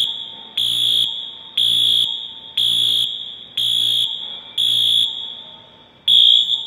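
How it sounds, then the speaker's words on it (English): Inside the Port Authority bus station in New York City, a fire alarm horn blasts in loud, evenly spaced pulses roughly every second, a harsh buzzing tone repeating steadily. "This is the fire alarm they have in the fire alarm at the bus station, New York City Port Authority."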